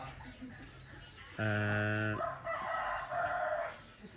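A rooster lets out one loud, close cock-a-doodle-doo, followed by softer drawn-out calls from chickens against a quiet rural background.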